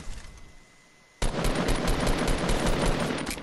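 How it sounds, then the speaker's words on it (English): Game gunfire from a shooter erupts after a quiet second, then a continuous, loud machine-gun-like stream of rapid shots runs to the end. "I'm being shot at."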